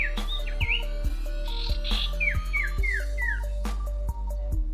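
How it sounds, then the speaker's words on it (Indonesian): A sirtu songbird chirps steadily nearby, a string of bright whistled notes and short descending tweets, alone and clear against a low steady hum. "burung yang sehat sudah pasti akan semakin rajin dalam kicauannya teman-teman"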